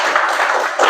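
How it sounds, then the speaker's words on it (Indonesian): Audience applause in a classroom-style group setting, a dense steady wash of clapping filling the short moment at close range with no speech over it. "Silakan berikan tepuk tangan untuk mereka."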